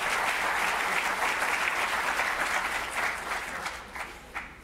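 Crowd applause at a community gathering for Israel, honoring Hasten Hebrew Academy students: steady, dense clapping from a large audience that gradually thins toward the end.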